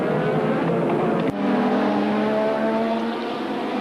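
Formula One race cars with Ayrton Senna leading two Williams Hondas up into the right-hander at Druids, a loud steady engine roar that holds throughout with a brief dip partway.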